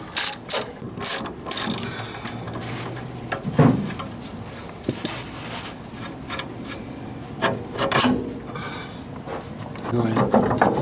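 A hand ratchet clicks in quick bursts while bolts are removed from a Honda CRV's suspension, with scraping and metallic knocks between the bursts and a voice talking now and then.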